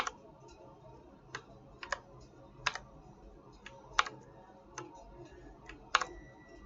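Mechanical keyboard with Cherry MX blue switches being typed on slowly, with sharp, crisp clicks arriving singly and in small pairs at irregular intervals against a quiet background.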